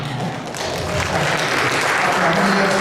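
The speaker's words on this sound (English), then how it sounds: "now you are able to clap your hands for the first time" A person claps their hands repeatedly after a painful hand injury, the steady claps blending with nearby crowd noise and some background speech.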